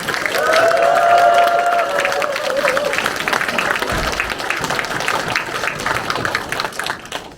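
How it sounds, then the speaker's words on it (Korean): A community hall crowd in Incheon's Dong-gu welcomes the mayor with loud applause and cheering, a whooping voice rising at first, then steady clapping that slowly thins. "유정복 인천광역시장님을 뜨거운 박수와 함성으로 맞아주시기 바랍니다."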